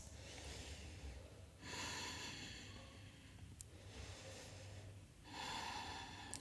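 Deep, forceful breaths during a slow yoga session, with large inhales and exhales alternating in a steady rhythm, close and fairly loud and heard alone.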